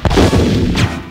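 A single loud bazooka blast in Resident Evil, up close, with a heavy booming thump that rolls off into a short rumble.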